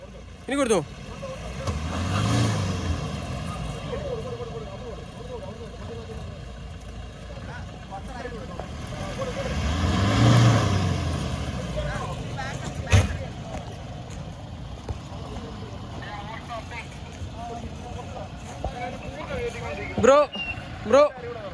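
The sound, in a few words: off-road vehicle engine revving on hard terrain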